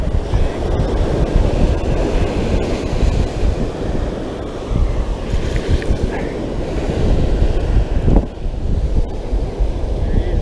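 Big ocean waves breaking on a fishing beach, a heavy continuous roar of surf with wind buffeting the microphone, loud and close, rising and falling as sets roll in, with a brief voice near the end.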